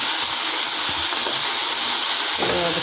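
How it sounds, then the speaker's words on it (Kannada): Basale greens fry in hot oil for a sambar, giving a continuous close sizzling hiss that stays steady throughout. "ಇದನ್ನು ಚೆನ್ನಾಗಿ ಆಯಿಲಲ್ಲಿ ಫ್ರೈ ಮಾಡೋಣ."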